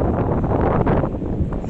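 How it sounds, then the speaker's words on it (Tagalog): Strong, cold wind gusting across a hillside farm field planted with carrots and potatoes, a steady loud roar buffeting the microphone with no speech. "Lakas talaga ng hangin"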